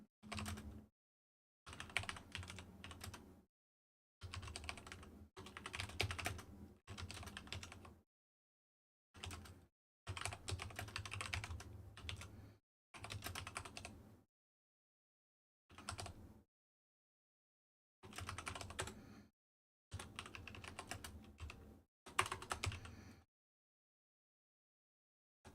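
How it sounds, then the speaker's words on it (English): Someone types on a computer keyboard in short bursts of quick keystrokes separated by silent pauses, close and fairly quiet, with no speech. "I'm typing real quick"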